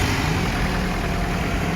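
An abandoned Ford Ranger truck engine idles steadily up close, a continuous low rumble with no pauses and no voices.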